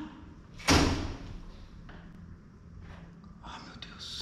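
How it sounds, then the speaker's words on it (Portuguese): A door bangs open with one loud sudden thud, followed by quieter faint knocks and rustles in a dim, quiet space. "porta se abriu"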